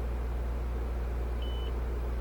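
A short, thin electronic beep from the stereo of a 2016 Lexus RX as a radio preset is stored, faint and steady over a low hum inside the car.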